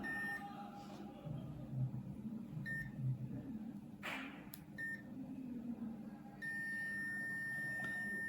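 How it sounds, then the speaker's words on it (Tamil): A multimeter gives short continuity beeps while BMW sensor wiring is tested, several brief faint tones spaced apart over a low background hum, then a longer steady tone near the end. "இப்போ அந்த பீப் சவுண்ட் கேட்குதா"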